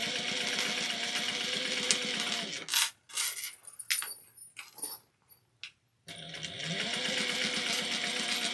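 A sewing machine runs steadily while top stitching, with a steady mechanical whir at the start and end and a pause in the middle filled by small clicks and handling sounds, close and fairly quiet.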